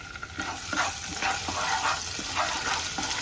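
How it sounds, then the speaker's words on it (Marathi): Ginger-garlic paste cooking with onions for a restaurant-style veg kolhapuri sizzles loudly and close, with rhythmic scraping stirs of a spoon through the pan every half second or so. "आपण आता आलं लसूण पेस्ट टाकली ती मस्त आता शिजत आलेली आहे"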